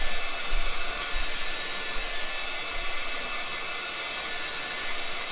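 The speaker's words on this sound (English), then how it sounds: "I just keep moving it around because this dryer is way too hot for the chalk" A hair dryer drying chalk paste blows with a steady, close-up roar of rushing air, continuous and unchanging throughout.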